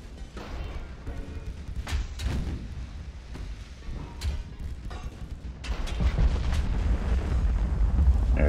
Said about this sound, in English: There's our ranging shot.